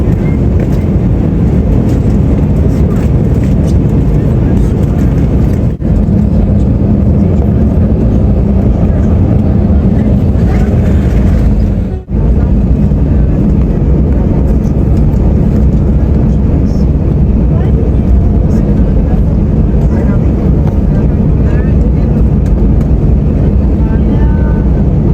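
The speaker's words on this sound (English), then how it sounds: "here's our departure out of Frankfurt, runway 18." Lufthansa Airbus A320 departing Frankfurt runway 18, heard from inside the cabin as a loud, steady engine roar with broad rumbling noise that holds throughout.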